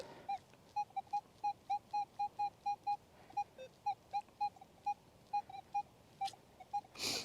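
A Minelab Equinox 800 or Manticore metal detector gives a quiet, steady string of short electronic beeps, repeating at a quick, slightly uneven pace, ending in a brief burst of hiss.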